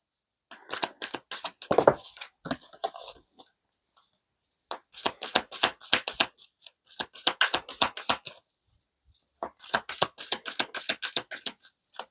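Tarot cards are shuffled in three bursts of rapid riffling flutters, separated by short pauses, close and crisp with no talking.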